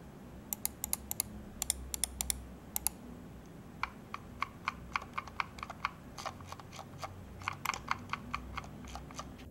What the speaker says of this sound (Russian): Давайте послушаем, насколько шумные здесь кнопки.